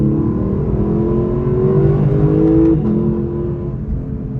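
A Lexus LC500 V8 grand tourer with a 10-speed automatic accelerating onto a freeway, its engine note rising steadily from inside the car, loud and continuous, with a brief shift break near the end.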